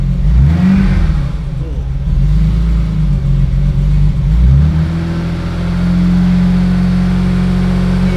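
A well-maintained car engine, kept on Shell Helix oil and running smoothly, revs up twice and then settles into a steady, even idle close by.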